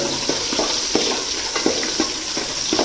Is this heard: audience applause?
no